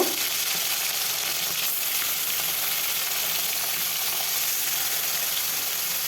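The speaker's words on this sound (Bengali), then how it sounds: "গ্যাসে কড়াই বসিয়ে দিয়েছি, কড়াই গরম হয়ে গেছে, সরিষার তেল দিয়ে দিলাম। লবণ হলুদ মাখা মাছগুলো এখন ভেজে নেব।" Steady, loud sizzling of pomfret coated in salt and turmeric frying in hot mustard oil in a wok, a continuous crackling hiss that fills the whole clip with no voices.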